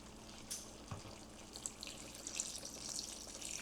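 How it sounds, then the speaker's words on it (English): Water poured into a pot of meat for Nigerian egusi soup, a steady close splashing and trickling stream that runs for several seconds with a few brief clinks. "now I am going to pour some water in here"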